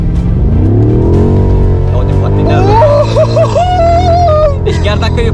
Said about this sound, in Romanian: Acolo derapați în toate 4 roțile.